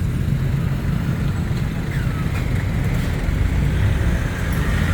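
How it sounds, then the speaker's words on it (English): Dense, continuous traffic on a busy road in Bangkok, Thailand, with engines and tyres rushing past at close range and a faint horn or squeal now and then. "This is a pretty busy little road."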